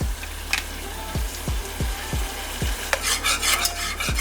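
Chili powder being stirred into a sauce in a pan for a crab leg dinner, with a spoon scraping the pan in a steady rhythm of about six strokes under a soft sizzle, close and alone without talk.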